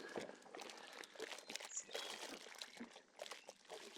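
A Worx Hydroshot 56 bar cordless pressure washer rinses a car with a faint, steady hiss of water spraying and splattering against the bodywork, irregular and soft, with no talking.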